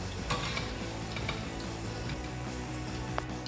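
Cashews and raisins fry in a pan for a vegetable biryani, giving a soft, steady sizzle with faint stirring clicks and scrapes of a utensil throughout.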